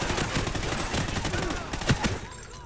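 Rapid bursts of gunfire in Call of Duty Ghosts, a dense run of shots rattling steadily under faint speech before tapering off near the end.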